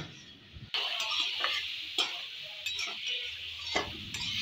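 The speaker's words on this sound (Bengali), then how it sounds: "মিশিয়ে নেড়ে চেড়ে নেব" Beetroot being stirred in a pan with turmeric, salt and sugar, a spoon scraping and clinking against the pan in repeated strokes over a soft sizzle, close and fairly quiet, with no talking.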